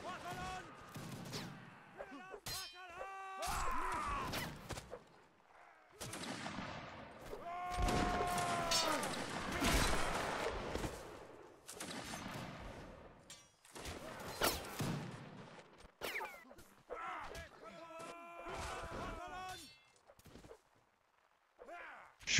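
Musket volleys crack and boom in a Napoleonic Wars video game line battle, with scattered shots and rolling fusillades at varying distances, heard under frequent player voice chat.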